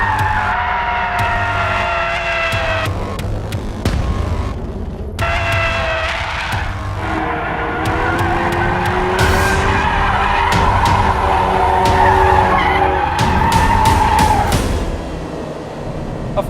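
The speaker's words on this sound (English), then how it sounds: "Now, you wouldn't think there would be a drift mode in an all-wheel drive car, but I tell you what, this does it really well." A 2016 Ford Focus RS, an all-wheel-drive hatchback, in drift mode: loud, sustained tire squeal and skidding over a steady engine drone for about sixteen seconds, with rising and falling pitch and brief breaks as the car slides.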